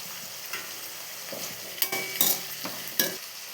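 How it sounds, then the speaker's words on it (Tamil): Washed curry leaves fry in hot oil in a pan for brinjal kara kuzhambu, giving a steady close sizzle broken by several scraping stirs of a spoon. "பாருங்கள், கொஞ்சமாக கருவேப்பிலை நல்லா கழுகி கருவேப்பிலை போட்டுக்கலாம்."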